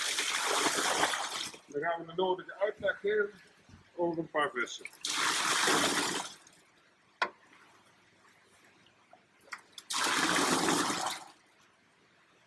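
Water is poured into a fish bowl while handling koi fish, in three rushing, splashing bursts near the start, middle and end, with someone talking in between.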